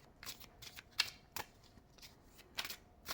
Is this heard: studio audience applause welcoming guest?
no